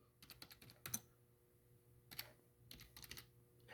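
Quiet computer keyboard typing in short clustered bursts of sharp keystroke clicks separated by pauses, close up and alone.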